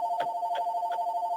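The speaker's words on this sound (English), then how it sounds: "That's my phone, I'm sorry." A phone rings with three short repeating trill bursts over a steady electronic tone, moderately loud and close, with no talking.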